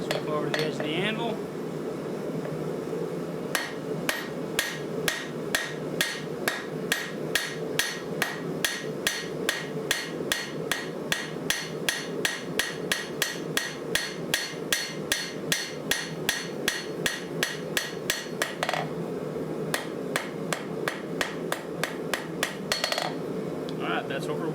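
Steady, ringing hammer blows on hot steel at an anvil while forging a hot dog fork, struck in a fast even rhythm for about twenty seconds with a brief pause near the end, loud and close, with no talk.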